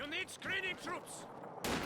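A PTRS anti-tank rifle fires in a Company of Heroes 2 battle, faint sharp cracks of gunfire under someone talking, with a louder broadband shot near the end.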